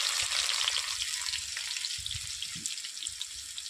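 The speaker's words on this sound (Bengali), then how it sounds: "দিয়ে দিচ্ছি পেঁয়াজকে" Onions sizzle in a hot pan with oil and cardamom, a steady, loud frying hiss with faint stirring knocks underneath, and no voices.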